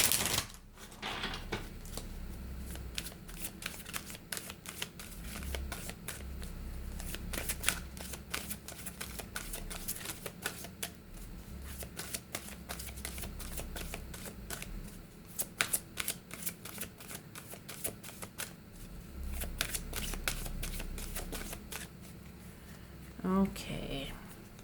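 Crystal oracle cards being shuffled steadily for about twenty-five seconds, a dense soft patter of riffles and flicks, close and quiet, with a brief hum near the end.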